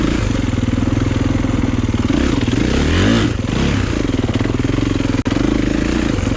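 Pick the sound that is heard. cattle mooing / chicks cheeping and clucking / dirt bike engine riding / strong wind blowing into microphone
dirt bike engine riding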